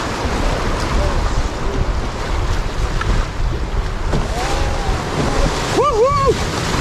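A canoe runs whitewater rapids on the Lower Madawaska River, with steady rushing water and wind noise close by, and excited voices calling out over it.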